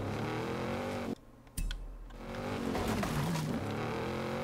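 A race car in Forza Horizon 5 drives hard with a loud, steady engine roar, drops out briefly as it shifts, then pulls again with rising revs and tire noise in an elimination race.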